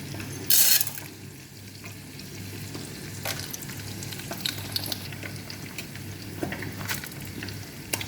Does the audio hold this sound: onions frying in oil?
yes